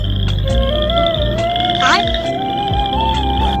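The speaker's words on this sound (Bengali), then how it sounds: "আরে এটার মধ্যে তো শুধু ব্যাং ডাকে" Frogs croaking in a well, a dense continuous chorus of loud near and far calls with repeated pulsing croaks throughout.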